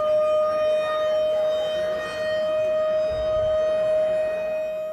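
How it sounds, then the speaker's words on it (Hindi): Sirens sound continuously at a rally marking Kashmir, a steady sustained wail held at one pitch throughout, loud and unbroken with a low rumble of background noise beneath and no talking. "इस मौके पर सायरन बजाए गए और 1 मिनट की खामोशी भी इख्तियार की गई।"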